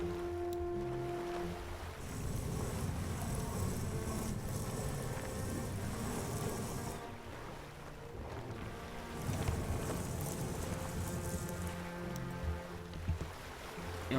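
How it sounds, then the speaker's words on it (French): Sail flapping and luffing in the wind in the Sailaway sailing simulator game, a steady rustle over wind and water wash that eases off partway, with no talking. "on entend que la voile arrête de faceiller"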